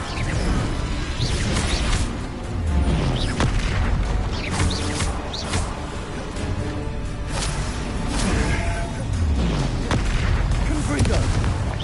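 Fire spell combat in Hogwarts Legacy on PS5, a continuous dense barrage of whooshing blasts and booming impacts, loud and close, with rushing flame-like bursts throughout.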